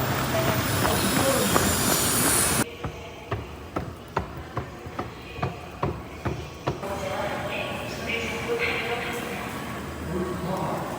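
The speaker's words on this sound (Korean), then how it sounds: "와연천에 전철이라니 이거 타야 되네" An electric commuter train at Yeoncheon station, South Korea, rumbles loudly, then its wheels clatter over rail joints in an evenly spaced run of clicks before settling into a steady rolling hum.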